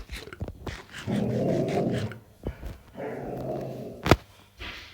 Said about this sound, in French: un petit chien.